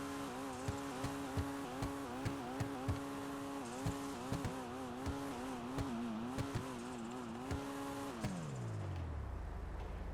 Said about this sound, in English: let's go ahead and rev it up and do that sound test.